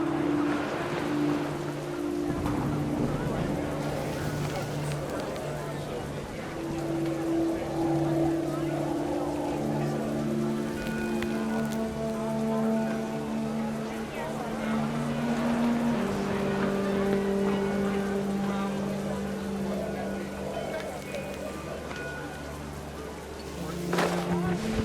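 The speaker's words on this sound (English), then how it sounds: "The rain came down in buckets then" Heavy rain in the video game What Remains of Edith Finch, a steady soft hiss of downpour running the whole length under sustained musical tones and occasional louder spatters.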